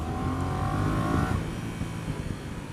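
Yamaha Tracer 700 motorcycle engine droning steadily at close range with a rising whine, accompanied by constant wind rush.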